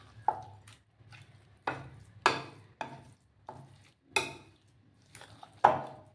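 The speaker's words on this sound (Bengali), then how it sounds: "ভালো করে আমি মিক্স করে নিচ্ছি" Chickpea flour mixed in a bowl, a series of about eight separate scraping, clinking strokes of a spoon against the dish, spaced irregularly with quiet gaps between, close up and moderately loud.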